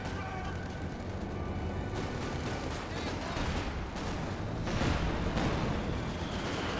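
Heavy mortar fire in a World War II strategy video game, a dense stretch of booming blasts and rattling gunfire rolling on steadily, loud and continuous, with a heavier burst near the end.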